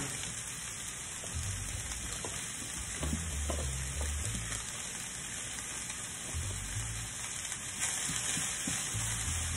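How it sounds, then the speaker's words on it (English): Vegetables sizzle in a hot pan with olive oil and garlic seasoning, a steady crackling fry close by, punctuated by scraping stirs and occasional low clunks. "I'm just gonna put all my vegetables in a hot pan"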